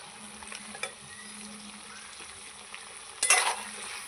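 Ridge gourd and potato pieces stir-frying with ground spice paste in a pan, a soft continuous sizzle with light scraping stirs and a louder clattering stir near the end.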